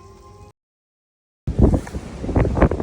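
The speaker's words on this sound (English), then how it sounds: "It is so freaking windy right now" After a brief silence, heavy winter wind in the woods buffets the microphone in loud, rumbling gusts that rise and fall.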